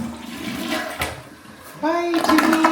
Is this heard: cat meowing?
no